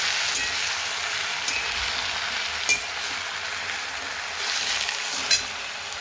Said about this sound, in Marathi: टाकली मेथीची भाजी तिला परतून द्यायचं ते कढईत तेल टाकलं